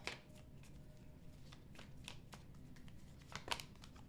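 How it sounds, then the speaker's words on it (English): Tarot cards are shuffled by hand, giving soft riffling and flicking bursts with a sharper snap near the end, quiet and close over a low background hiss. "Last shuffle."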